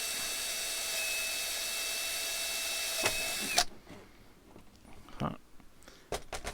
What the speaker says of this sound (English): line it up through it and then drill it